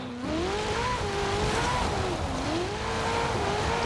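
Stock 2019 Ferrari 488 Pista in Forza Horizon 4 drifts with a continuous tire squeal that wavers up and down in pitch over a steady engine drone, loud and sustained, with no talking.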